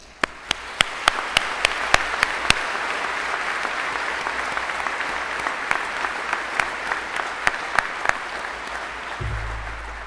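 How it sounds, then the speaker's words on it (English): Graduation ceremony audience applauding for Bishop Kenny's Class of 2021, a broad wash of clapping in a large space with loud, regular claps from someone close by, tapering slightly at the end. "Round of applause for"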